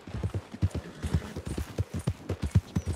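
A horse galloping in the video game Red Dead Redemption 2 during a race, rapid rhythmic hoofbeats close and clear, steady for a few seconds.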